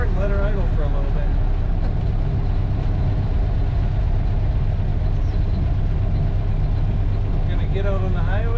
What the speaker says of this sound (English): Just turn on the fuel, push start, and let her idle for a little bit.